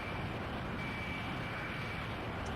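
A helicopter engine throttling up in Garry's Mod (ACF build) gives a steady, broadband mechanical roar with a faint high whine, heard alone with no talk.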